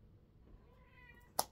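A house cat gives a single faint, drawn-out meow, rising softly before ending in a brief sharp click, close but quiet in a calm room.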